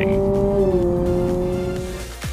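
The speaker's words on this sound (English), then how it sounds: "Sport mode uses active sound control to add even more acceleration sound." A 2023 Honda CR-V Hybrid Sport Touring, a two-motor hybrid in sport mode with active sound control, accelerates. Its smooth tonal engine note rises and holds as a loud, steady drone.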